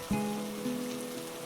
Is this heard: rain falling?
yes